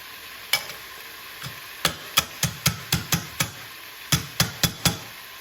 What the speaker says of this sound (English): I'm just mashing the vadi just a little bit to break up the size.